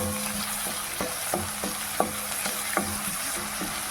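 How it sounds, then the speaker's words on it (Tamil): Two onions sautéing in a pan after green chilli and ginger have fried, a steady sizzle with repeated scraping stirs of a utensil at a regular rhythm, close and alone. "2 வெங்காயம் கட் பண்ணி வச்சுருக்கேன். நல்லா வதக்கி கொடுங்க."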